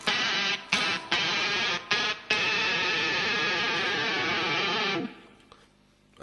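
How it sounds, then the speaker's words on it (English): Heavily distorted electric guitar plays a verse riff, with choppy, dense bursts giving way to a sustained noisy wash as the whammy bar raises the pitch, cutting off abruptly near the end. "you know that you need to bring the whammy bar up, raise the pitch by about a tone"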